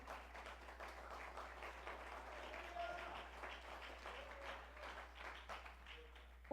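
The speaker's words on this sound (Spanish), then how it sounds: "démosle el aplauso al Señor" A church congregation applauds during a sermon, a sustained soft wash of many hands clapping that sounds distant and fairly faint throughout.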